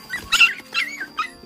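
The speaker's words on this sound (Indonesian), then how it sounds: "saya dicegat sama guguk kecil" A small dog yips and barks in three sharp, high-pitched bursts, fairly close, with a whiny edge between them.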